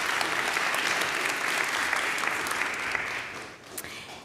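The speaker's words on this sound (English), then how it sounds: "And so applause for our jury today." A tech event audience applauds the jury in a main hall, a dense, steady clapping that holds for several seconds and then thins out near the end.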